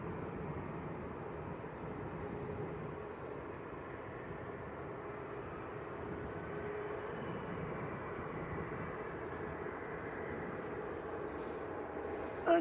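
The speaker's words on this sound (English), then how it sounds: "Ryanair on finals in from Gothenburg. Maltese registered Max." A Ryanair Boeing 737 Max, Maltese registered, on final approach at Manchester Airport produces a steady, distant broadband roar and rumble that holds evenly throughout without talk.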